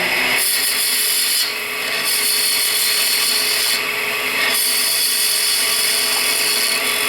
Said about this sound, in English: with this being 90 degrees right here at that edge, I can use it to do a peeling cut